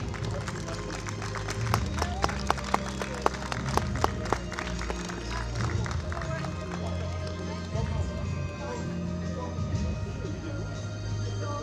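An audience applauds the staff at a youth archery event, the European Youth Cup recurve finals in Sion: a dense burst of clapping that carries on under a steady crowd murmur while an announcer speaks over it.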